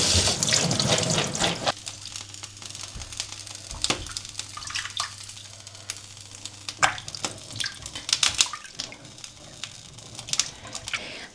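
Tap water runs into a sink as maize is rinsed for pozole, a loud steady splash at first that turns into lighter, intermittent trickling and spattering with occasional clinks.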